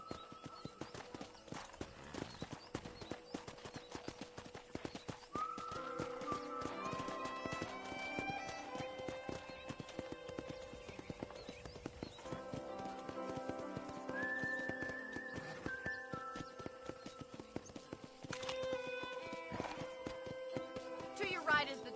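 Horse hooves clip-clop steadily in the video game Red Dead Redemption as a rider sets off across a ranch property, with a neigh, background music and game dialogue playing over the hoofbeats.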